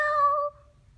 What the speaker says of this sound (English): Perfect, a cat.